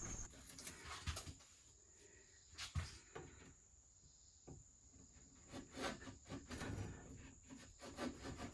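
A wood chisel cutting a V-groove into a wooden workpiece, giving quiet, close scraping and paring strokes in an irregular rhythm, with occasional sharper taps.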